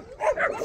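Dogs in Greece, part of a pack of around twenty including young ones, give short yips and whimpering barks at close range over a brief moment, with no talk.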